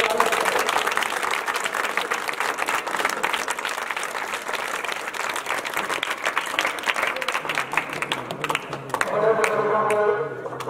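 A crowd at a political by-election gathering gives loud, sustained applause, with scattered cheers and voices, then music with steady tones comes in under it near the end.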